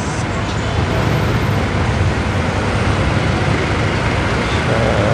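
Street traffic on Quintin Paredes Street in Binondo, Manila, heard as a steady, dense roadway roar of passing vehicles that stays loud and unbroken throughout.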